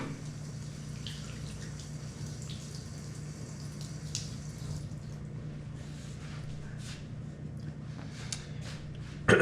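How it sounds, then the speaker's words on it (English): Tap water runs steadily into a sink while hands are rinsed, a close, continuous splashing wash with small drips and squishes over a low hum, no talking. "Now I'm going to rinse off my hands."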